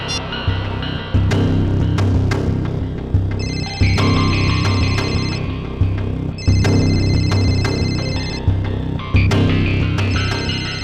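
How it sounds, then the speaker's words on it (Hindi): A telephone rings repeatedly with an electronic tone, sounding in short, evenly spaced bursts over a dense, busy background. "और ये जो बेल बज रही है, इसी नंबर से फोन आया था।"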